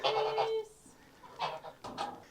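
Geese on a farm in Portugal give a few nasal honks and calls at close range, one longer cry followed by shorter separated honks in a quiet setting.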